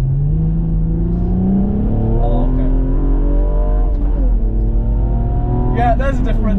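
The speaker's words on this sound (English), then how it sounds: "The turbo spool is very quick in this car" A stage 2 tuned, 400 bhp BMW engine revs and rises in pitch with a faint whistling turbo spool over it, steady and close, ending in a brief higher whine.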